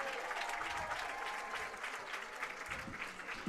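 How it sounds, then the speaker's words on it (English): A crowd at a varsity high school football game applauds the linemen, a continuous, fairly distant wash of clapping at low level with a faint murmur of the stands beneath. "How about a round of applause for those linemen?"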